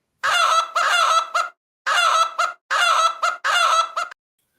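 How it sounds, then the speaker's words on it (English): A played sound effect of chickens clucking and turkeys gobbling comes in four short bursts of loud fowl calls, separated by brief silences. "Cluck, cluck, cluck, cluck, cluck. Gobble, gobble, gobble."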